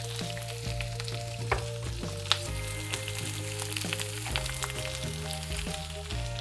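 Brussels sprouts and garlic fry in oil in a pan, giving a steady close sizzle with a few light clicks and stirring knocks. No one speaks.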